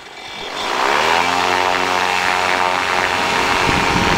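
A light aircraft's propeller engine runs up from near quiet to full takeoff power within the first second, then holds a loud, steady drone with rising harmonic tones, heard close from inside the cockpit.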